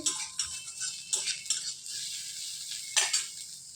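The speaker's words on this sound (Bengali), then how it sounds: "তো পেঁয়াজটাকে ভালো করে ভেজে নিচ্ছি।" Onions, chopped garlic and five-spice frying in oil in a pan while a metal spoon scrapes and clinks against the pan in irregular strokes, with a soft sizzle underneath; close and fairly quiet, no talking.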